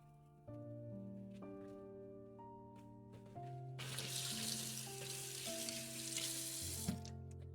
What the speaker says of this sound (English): I need to rinse my hands so I can get that tray